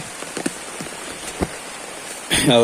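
Steady rain patters and hisses on surfaces beside a rising river, with a few sharper drops, before a voice begins speaking near the end.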